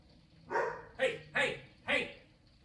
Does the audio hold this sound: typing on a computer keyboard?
no